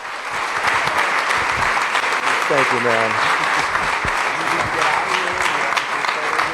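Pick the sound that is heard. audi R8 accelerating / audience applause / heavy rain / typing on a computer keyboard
audience applause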